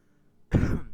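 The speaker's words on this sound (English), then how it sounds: "they got me coughing too." A person coughs once in a game setting, a short harsh throat burst after a moment of near silence, close and fairly loud.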